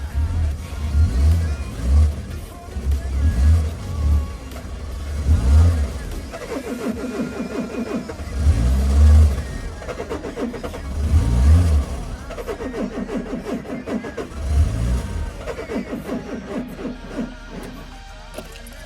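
A dead-battery 1994 Citroen AX 1.0 engine fed deodorant spray as fuel turns over, catches and revs in rough bursts, repeated surges rising and falling across the clip with brief pauses between attempts.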